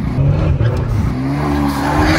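A 200 HP car drifts through Monaco streets, engine roaring steadily with tire squeal layered over the drive, loud and close throughout.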